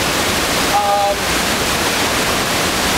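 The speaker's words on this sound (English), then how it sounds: "It's a pretty big waterfall." A large waterfall in Costa Rica roars as a steady, dense rush of falling water, loud and close, with no break across the whole stretch.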